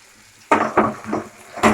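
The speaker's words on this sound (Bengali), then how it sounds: "ফুলকপিগুলো তুলে নিচ্ছি।" Fried cauliflower florets are lifted from a hot pan with a utensil, giving a few distinct scraping clinks and stirring sounds over a soft sizzle, with no talking.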